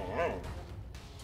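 Dogs in the South Park video game give a short bark and a yip that sound close and clear, followed by fainter background noise.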